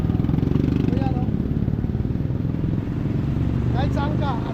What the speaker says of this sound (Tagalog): Kita nyo yan, ang dami ng mga motor.